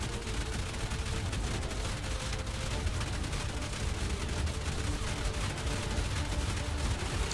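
Turrets firing during a raid on a shadow cave in ARK, a dense, continuous barrage of rapid gunfire that crackles and booms without pause.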